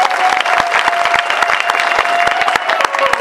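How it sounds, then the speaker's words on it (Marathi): Loud, sustained applause from a large audience at a live Marathi devotional katha, dense clapping filling the space steadily with no talk over it. "त्यांच्याकरता एकदा जोरदार टाळ्या झाल्या पाहिजे"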